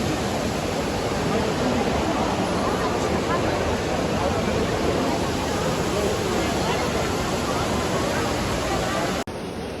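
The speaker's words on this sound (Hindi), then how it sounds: "दुबई वाटरफॉल है ये, और कितना ब्यूटीफुल लग रहा है ना" The Dubai waterfall pours in a dense, steady rushing roar, loud and close, with crowd chatter faintly mixed in before it cuts off abruptly near the end.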